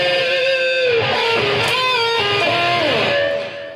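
A distorted electric guitar rips through a fast, demanding lead passage from a song's solo, quick note runs and slides ringing loud and unaccompanied before trailing off.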